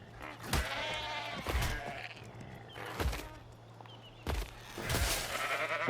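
Sheep in the video game Ark Ascended bleat several times in separate calls spread over a few seconds, each loud and close, over a steady low in-game hum.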